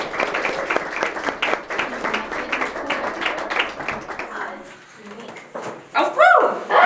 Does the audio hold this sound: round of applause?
yes